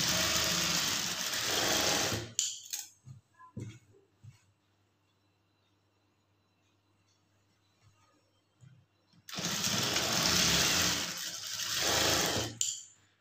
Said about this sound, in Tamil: அதை அப்படியே மடித்து நேராக தையல் வந்து போட்டுக்குங்க.